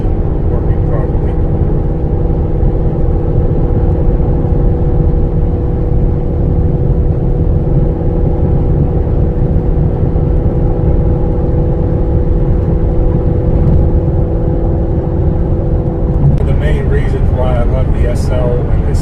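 Engine drone from a 700 horsepower Mercedes-Benz SL55 AMG heard from inside the cabin during a ride, a loud, steady low hum and whir that continues throughout, with faint voices near the end.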